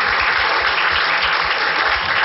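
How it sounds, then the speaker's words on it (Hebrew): An audience applauds a belly dancer with a dense, continuous roar of clapping that stays loud and even from start to finish. "הרבה מחיאות כפיים לכולם"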